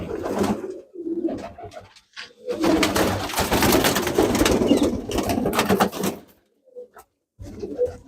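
Pure Gurdev-line pigeons, including a hen kept at home, coo and rustle close by in a dense stretch of activity, with short quieter breaks before and after.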